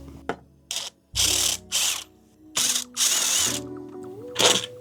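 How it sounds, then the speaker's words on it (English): A power screwdriver removes two screws from the airbox of a Vespa scooter, with several short whirring bursts starting and stopping, close up and loud, separated by brief pauses. "Let's remove the airbox real quick. So there's just 2 screws."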